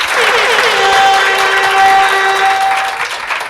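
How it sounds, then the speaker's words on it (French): Studio audience applause with some cheering at a televised show before a school group, a dense, loud burst of clapping filling the whole stretch, with sustained tonal musical notes running underneath. "Applaudissez pour vous-même."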